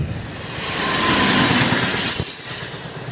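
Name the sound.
local train passing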